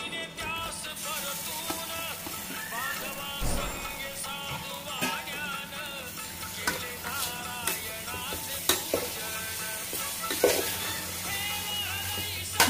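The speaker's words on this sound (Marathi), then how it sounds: "केळी सुद्धा छान व्यवस्थित अशी मिक्स करून घ्यायची." Bananas being stirred into ghee-roasted semolina sheera for Satyanarayan puja prasad, with a spoon scraping and clinking against the pan in steady strokes over a soft sizzle.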